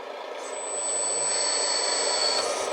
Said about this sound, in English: Pump's working.